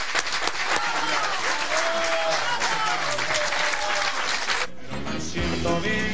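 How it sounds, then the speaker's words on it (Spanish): Loud studio audience applause on a 1991 Argentine television comedy show, dense and continuous, with music and voices mingled in and a brief drop near the end. "Fuerte ese aplauso para Martín."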